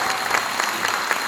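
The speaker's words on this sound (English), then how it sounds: "Give him a round of applause wherever he's at." An audience at a meeting gives a steady round of applause, a dense, continuous wash of many hands clapping at even loudness for the whole short moment, with no voice on top.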